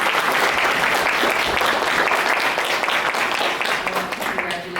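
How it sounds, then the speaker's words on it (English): A crowd at a county commissioners court meeting gives Hunter a burst of dense, loud applause that continues without a break and fades slightly at the end. "Will we all give him an applause,"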